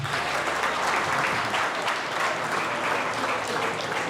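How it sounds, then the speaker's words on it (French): Audience applause fills a masterclass on natural beauty products with a dense, even wash of clapping that holds at a steady level for about four seconds, with no voices over it. "Applaudissez pour moi."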